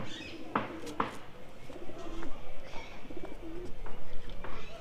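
Domestic pigeons coo softly in a backyard coop as its doors are opened, with a couple of sharper clicks or flutters early on and steady low cooing and faint chirps throughout.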